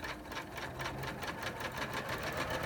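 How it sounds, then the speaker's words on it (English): Embroidery machine sewing the top stitch line of a pocket on an in-the-hoop business card holder, a steady rapid mechanical stitching chatter with regular pulsing beats, close and continuous with no voices. "now this is going to stitch the stitch marks that are going to be the top of the pocket"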